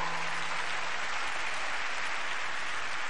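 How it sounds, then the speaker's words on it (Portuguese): A church congregation at a worship gathering applauds, a dense, continuous wash of clapping at a steady moderate level with no talk over it. "Aplauda o Senhor se você crê."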